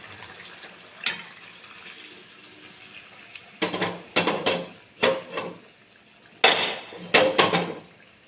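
Boiled toor dal being stirred into sambar in a cooking pot, with scattered clanks and scrapes of a spoon against metal, a few sharp bursts clustered in the latter half over a quiet background.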